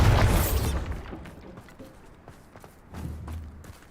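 A Bombarda spell explosion in Hogwarts Legacy bursts as a loud, broad blast that decays over about a second, followed by quieter scuffs and a second low rumble.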